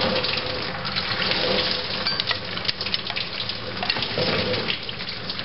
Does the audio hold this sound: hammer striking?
no